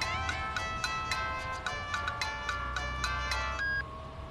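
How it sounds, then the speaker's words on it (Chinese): A phone ringtone for an incoming call plays a repeating bright electronic melody of evenly spaced notes, close and clear, cutting off near the end. "你老婆来电话了，你怎么不接呀？"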